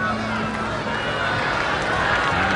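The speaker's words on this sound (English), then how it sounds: "And the crowd's starting to get into it, too." Crowd noise rising at the 1985 US Open tennis final between Lendl and McEnroe, a broad, steady roar of spectators lasting a few seconds at fairly loud level.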